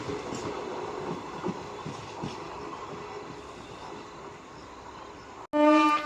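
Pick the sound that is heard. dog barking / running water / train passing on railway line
train passing on railway line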